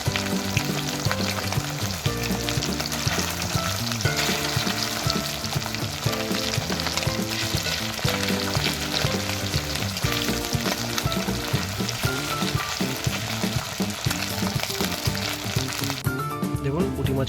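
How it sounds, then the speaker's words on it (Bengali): Small puti fish fry in hot oil in a pan, giving a dense, steady crackling sizzle that stays loud and close throughout, with no talking over it. "দেখতে পাচ্ছেন পুঁটি মাছগুলো ভাজা হয়ে গেছে।"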